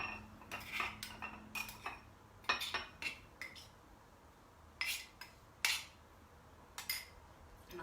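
A metal spoon scrapes and taps against a bowl of carrot top pesto, giving a run of sharp, close clinks and scrapes in irregular bursts with brief pauses between them.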